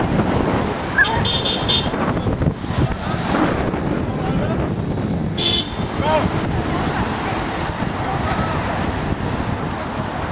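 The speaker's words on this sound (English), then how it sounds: "Probably can't hear me because of the wind." Strong outdoor wind buffeting the microphone at a pride march in Victoria, a loud continuous rumbling roar with gusty surges and brief high whistles over it.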